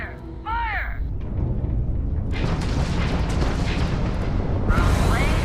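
Ship weapons firing in Starfield, long bursts of blasting noise with whooshing laser-like sweeps, loud and continuous for several seconds.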